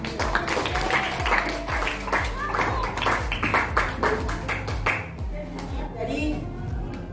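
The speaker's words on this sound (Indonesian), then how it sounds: "Oke, tepuk tangan untuk kelas 73." A class of seventh-grade pupils in an Islamic junior high school classroom claps their hands, a brisk, fairly close burst of uneven claps mixed with some voices and a low hum.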